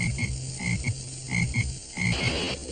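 A frog croaks in a steady series of loud, close, rasping calls, repeated in short bursts with brief gaps and no voices.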